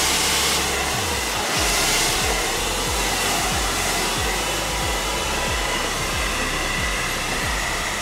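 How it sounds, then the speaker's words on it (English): A handheld hair dryer blows steadily while drying a section of hair, a loud, constant airy whoosh with faint low thumps as it moves through the hair. "That section is now blow dried."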